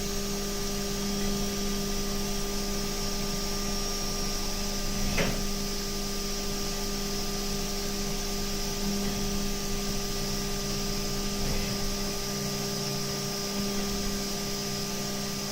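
A CNC machine trims the sides of a thin metal part at high feed, giving a steady loud machine drone with sustained tonal hums and a brief sharp burst near the middle, with no talking.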